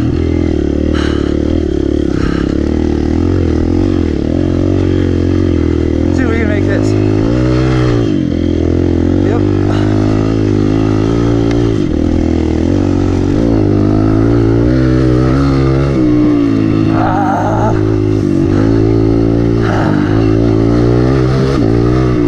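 A motorcycle rides a lap of a snowy private track, its engine loud and close throughout, revving and droning with shifting pitch as it accelerates and eases through turns, while a rider talks over it.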